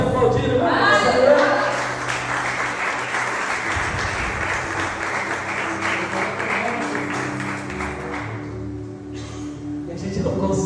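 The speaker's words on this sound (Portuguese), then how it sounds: "Pode aplaudir" A church congregation applauding during a sermon, a steady, full wash of many hands clapping that fills the room for the whole stretch and slowly thins toward the end, with voices mixed in.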